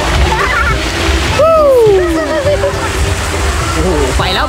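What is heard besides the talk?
children splashing in sea water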